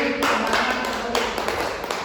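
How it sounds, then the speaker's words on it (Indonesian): Students in a classroom clap together in a steady, dense patter of hands, fairly close and sustained for a couple of seconds without talk. "Tepuk tangan dulu."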